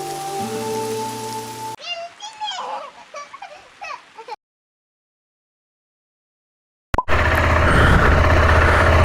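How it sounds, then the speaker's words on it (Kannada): Rain falls during a motorcycle ride through Spiti, first under a steady engine drone and voices, then returning after a silent gap as a loud, dense, continuous hiss. "ಮಳೆ ಶುರುವಾಯ್ತು"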